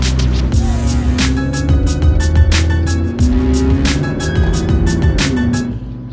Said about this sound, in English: in a second I'll be heading out for a drive with a friend of mine here who has a McLaren